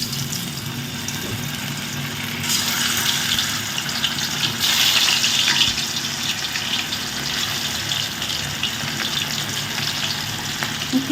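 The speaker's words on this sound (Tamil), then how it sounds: "இப்போ நம்ம கடாய் வந்து அடுப்பில் வச்சு எண்ணெய் வந்து நல்லா கொதிச்சிருச்சு. இப்போ இதில் வந்து நான் வந்து சிக்கனை போட்டுக்கலாம்." Chicken 65 pieces frying in boiling oil in a kadai, a steady loud sizzle and bubbling hiss that swells briefly midway and continues without talk.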